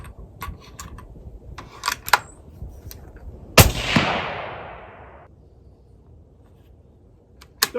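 A single loud, close rifle shot from a Tikka T3X Lite in 22-250 firing a 53 grain VMAX, with a sharp crack and a long echoing decay across open ground, set among faint clicks and handling noises.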